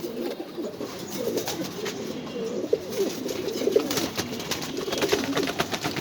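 Pigeons at a pigeon farm coo in soft, overlapping low calls that repeat steadily throughout, close by with faint rustling around them.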